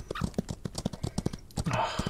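Horse hooves clip-clopping in the Old West video game Outlaws of the Old West, a steady run of quiet, evenly spaced hoof knocks, fairly faint and alone, with a brief wash of other game noise near the end.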